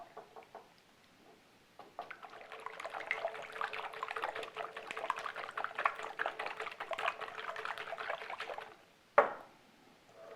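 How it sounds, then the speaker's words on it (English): Eggs whisked together in a bowl for quiche Lorraine: a steady, rapid clattering swish that runs for about seven seconds, fairly close, ending in one sharp knock. "then we can whisk this together. Just break up these eggs"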